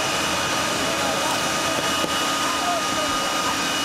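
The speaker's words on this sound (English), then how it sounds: "those are blowers that you can hear, by the way" Blowers running at the 2016 6 Hours of COTA race track, a steady broad roaring whoosh that holds constant throughout, loud and continuous with no breaks.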